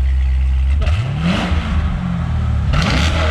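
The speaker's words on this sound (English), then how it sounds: "Give her a little rev." A wrecked 2007 Chevrolet Corvette C6 Z06 idles and then is blipped, its engine note climbing sharply and falling back twice in short, loud revs close by.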